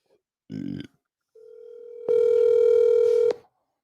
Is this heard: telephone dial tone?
yes